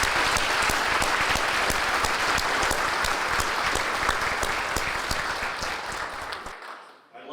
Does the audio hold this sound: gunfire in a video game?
no